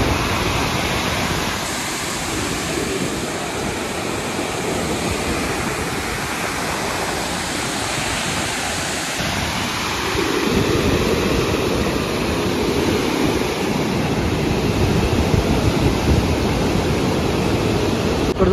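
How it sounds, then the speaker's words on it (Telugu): Water rushes from the opened gates of the Penakacherla dam in Anantapur, a steady broadband roar like a waterfall that thickens and grows slightly louder midway, with no voices. "ఇక్కడ వాటర్ సౌండ్ బీభత్సంగా ఉంది కదా."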